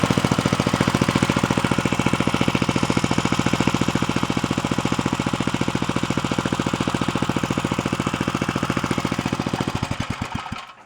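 A Troy-Bilt rototiller's small engine runs steadily and loud close by, a fast, even chugging pulse that holds through the whole stretch and then sputters and slows to a stop at the end.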